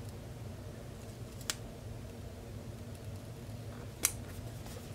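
Scissors snip through paper for a memory-keeping scrapbook page, two short crisp cuts a few seconds apart over a quiet room hum.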